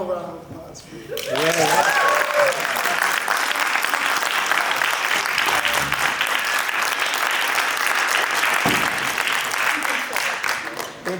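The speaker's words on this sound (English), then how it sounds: "One more round of applause, please." Audience at a school play in a middle school applauding, a sustained, dense round of clapping from a crowd that swells quickly and holds steady; a voice speaks briefly before the clapping begins.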